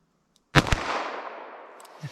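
A single sharp gunshot from a .22 Mag or 9mm handgun fired at a ballistic gel target outdoors, a close crack with a quick second transient followed by a rolling decaying echo, then a small thud.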